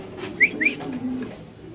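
Pigeons on a farm, stirred up by a stick, give two sharp whistling squeaks and a low coo close by, with no clear wing flapping standing out.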